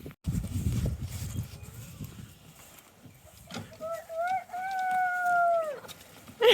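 Chickens in a backyard coop, starting with busy low clucking and a brief voice, then a rooster's drawn-out crow, fairly close and clear, with another short call at the end.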